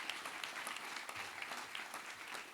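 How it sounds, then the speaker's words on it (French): Applause from the audience at the 2021 Septuors de l'Ariège award ceremony in Ariège: a dense, fairly faint patter of many hands clapping, steady throughout the short stretch with no voices over it. "on va encore vous féliciter par quelques applaudissements bien mérités"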